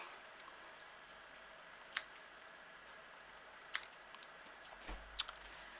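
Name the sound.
scissors snipping the edges of a paper sentiment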